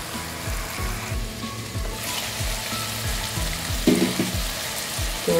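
Cabbage and chicken frying over high heat in a pan, a steady, moderately loud sizzle with a regular low rhythmic thumping underneath and a brief clatter near the end, with no voices.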